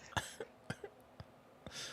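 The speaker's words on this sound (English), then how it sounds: "I got a bit of a cough." A few short, dry coughs spaced apart, close and fairly quiet, with a brief breathy throat sound at the end.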